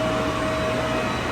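A vacuum pump draws down a screw compressor after an oil filter change, giving a loud, steady mechanical hum with a constant whine and no pauses.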